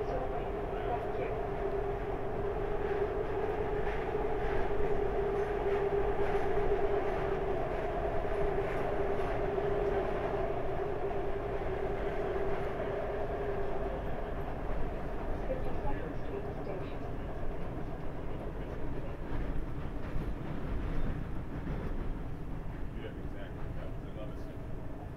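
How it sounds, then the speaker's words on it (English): A SEPTA Market-Frankford Line subway train rumbles steadily along the tracks with a constant low roar and hum, heard from inside a car, with faint voices underneath. "Frankford train making all stops."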